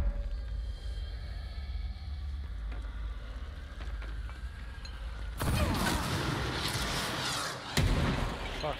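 Rocket launcher fire in the action game Control, a sudden loud, broad explosive roar bursting in midway over a low ambient rumble, then sustained with a second sharp blast near the end.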